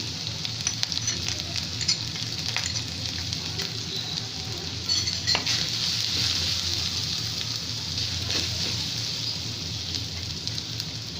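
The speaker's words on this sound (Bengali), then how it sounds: "এগুলো আমি পেঁয়াজের সাথে একটু ভাজবো" Onions fry in a pan with spices for beef keema, a steady close sizzle with crackling that runs throughout without talk.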